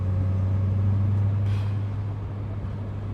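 An Alfa Romeo Montreal cruises in fifth gear at about 50 km/h, its engine a steady, loud low hum with a strong tonal drone that eases slightly near the end; no one speaks.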